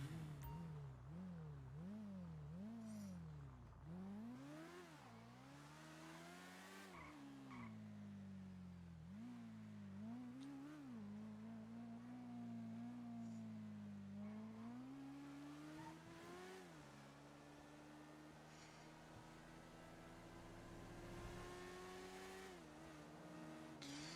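Motorbike engine in GTA V revving steadily and loudly with rising and falling pitch sweeps through shifts, continuous throughout with no talking.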